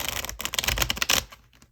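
A tarot card deck being shuffled, a close, rapid riffling of cards that flutters for about a second before cutting off into quiet.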